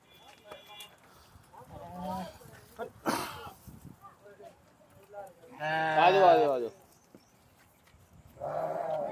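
Goats bleat at a busy goat market in Faridkot, several loud, wavering calls rising near and clear among scattered background talk and faint thumps.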